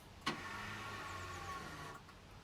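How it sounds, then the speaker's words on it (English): An electric parking brake motor on a Vauxhall Meriva engaging during cable replacement, a short whirring mechanical hum of about two seconds after a brief click, close and fairly quiet. "And Ron's got to put the handbrake on."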